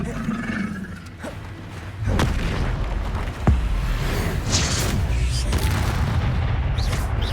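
Combat in the Hogwarts Legacy video game, with heavy booming spell blasts and thuds rolling over a dense rumbling backdrop, one sharp crack standing out midway, loud and continuous.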